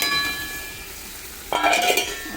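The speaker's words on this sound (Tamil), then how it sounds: "கிண்டி விட்டுடலாம் மேலே கட்டி விடாமல்" Spice powders being stirred into a garlic pickle in a pan, with a faint sizzle that gives way halfway through to a burst of scraping, clinking stirring close by.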